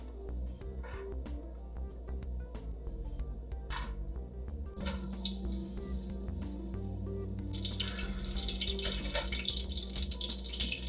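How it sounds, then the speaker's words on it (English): Fat melting in a pan for sawmill gravy gives a busy crackle and sizzle of bubbling, with clicks and pops that grow denser and louder toward the end. "We're supposed to melt and everything until it kind of stops bubbling"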